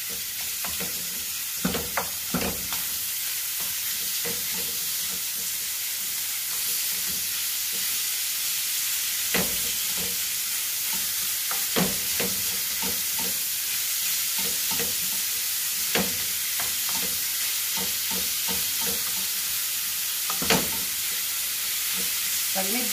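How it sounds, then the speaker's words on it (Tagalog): Minced pork fries in a pan, a steady sizzle throughout with repeated scraping knocks as it is stirred, fairly close and alone with no talk. "Haluin lang natin hanggang maging brown din ang maluto."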